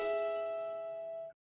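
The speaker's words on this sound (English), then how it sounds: "Ding, ding, ding, goes the bell." A single clear bell ding rings out, sustained and gradually fading for over a second before stopping abruptly, fairly quiet and alone.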